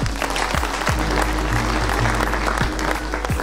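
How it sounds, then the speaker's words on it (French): An audience applauds at a World Tree Day event in Lualaba, a dense burst of clapping that fills the whole short stretch at moderate loudness, with a few low thumps from the microphone mixed in. "Est-ce que nous ne pouvons pas applaudir pour cette vision?"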